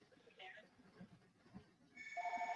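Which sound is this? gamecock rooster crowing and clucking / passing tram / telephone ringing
telephone ringing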